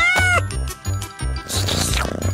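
A cartoon cat meows in a kids' animated scene, several short voiced meows in a row, close and clear over a light music bed.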